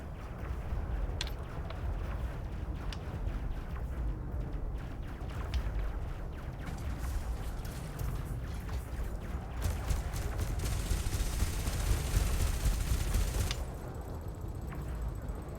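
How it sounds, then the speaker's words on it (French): Spaceship laser and cannon fire in Elite Dangerous, a steady rattle of rapid bursts that runs through most of the stretch over a dense, continuous engine rumble. "Il lui tire dessus"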